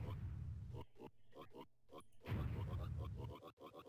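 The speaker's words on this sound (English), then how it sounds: "when all these piggies have stopped oinking, that means that he's elsewhere" Pigs oink and grunt in the Mother 3 video game, a quick series of snorting calls in two clusters separated by a brief lull, fairly close and clear.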